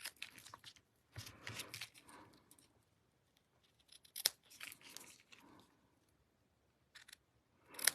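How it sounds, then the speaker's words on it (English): Scissors snip through paper in a few quick bursts of crisp cutting, separated by short quiet pauses, close up. "My scissors could use a little sharpening."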